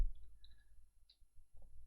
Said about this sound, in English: I'm just using my cursor keys